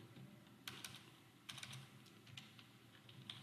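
Keys clatter on a computer keyboard during a desktop publishing exercise, coming in a few faint, scattered bursts of clicks with quiet gaps between them.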